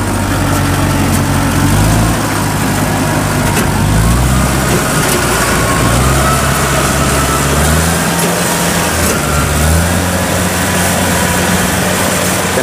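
Kubota DC105X rice combine harvester running in a field as rain approaches, a loud, close engine drone with rising and falling revs and a steady mechanical whine, with no voices over it.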